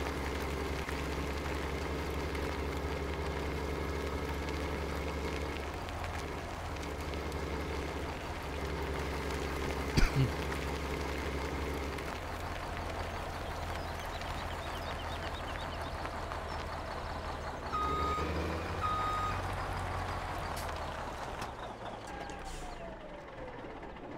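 A Serious Mods logging truck idles in Farming Simulator 17, giving a steady low diesel drone with a brief clank midway, then the revs and pitch rise slightly near the end. No clear reversing beeps stand out.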